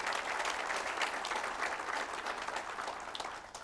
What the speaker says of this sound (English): That, ladies and gentlemen, is where we clap.